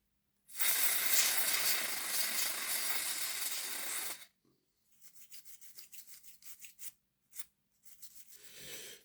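Aerosol cleaner sprayed onto a copper contact from a Hornby Dublo Class 08 shunter model train gives a close, continuous hiss for about four seconds, then short bursts and faint rustling follow.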